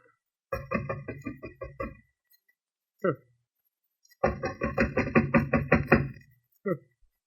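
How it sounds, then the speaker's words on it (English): Someone knocks on a studio door in a 1944 radio mystery drama, with two clusters of quick, rhythmic raps and a couple of single knocks between them, close and clear, and voices mixed in. "Guess I'd better knock."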